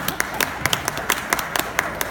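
Scattered clapping from a small part of the audience at a Politicon 2017 LGBTQ panel, a dozen or so sharp, uneven claps over about two seconds, fairly faint with a low room murmur beneath.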